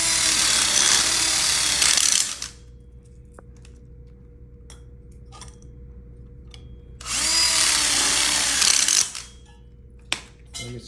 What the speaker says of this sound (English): I'll go ahead and screw these in, these one-ways, into the telescoping tubes here